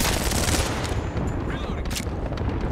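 Dense rapid gunfire in a shooter video game, continuous loud bursts and cracks layered over a heavy rumble, with a faint game voice briefly under the shooting.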